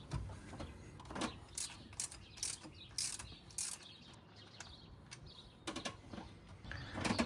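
A ratchet clicks as the 15 mm bolts holding the tensioner and idler pulley are loosened on a 2006-10 Dodge Charger 5.7 during water pump work; quick bursts of close, faint ratcheting come in irregular spurts, with no speech.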